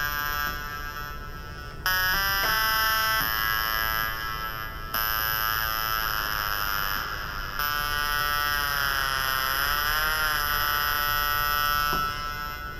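A Korg NTS-1 synthesizer plays through its tiny built-in speaker, giving bright, buzzy sustained tones that step between pitches and slowly bend and sweep, loud and close.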